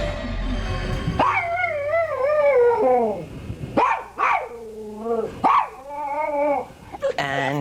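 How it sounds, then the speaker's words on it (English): A dog barks and howls repeatedly, close and loud, with drawn-out wavering howls broken by short sharp barks and whines in an uneven rhythm. "he barks from the moment we leave till we come back"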